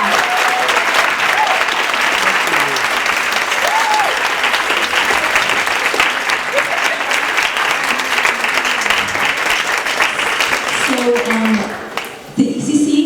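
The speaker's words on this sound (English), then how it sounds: "just one last round of applause for Issa Rae" Audience applause at an author event in a bookstore, a dense sustained round of clapping from a sizable crowd that tapers off near the end as a voice begins speaking.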